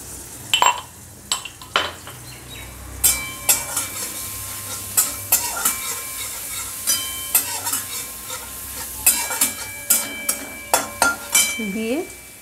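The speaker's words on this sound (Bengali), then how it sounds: "রসুন ফোড়ন দিয়ে দিচ্ছি" Crushed garlic is tempered in hot oil, giving a soft sizzle under a run of sharp metallic clinks and taps from a spatula against the pan, repeated in an uneven rhythm.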